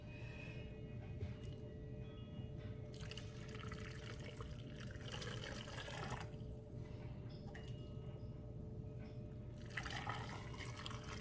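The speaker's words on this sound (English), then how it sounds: "now we're gonna put the brine in" Pickle brine poured into a jar packed with cucumbers, a steady liquid pouring and trickling sound that runs continuously at a moderate level and swells in a few brighter surges.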